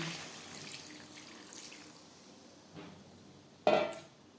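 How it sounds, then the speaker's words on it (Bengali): Water is poured into a pan of potato and pointed gourd curry cooked with spices, a soft, faint trickling that ends in a brief, louder splash. "মশলার সাথে আলু পটল বেশ ভালো করে কষিয়ে নেওয়া হয়ে গেছে এই পর্যায়ে দিয়ে দেবো জল"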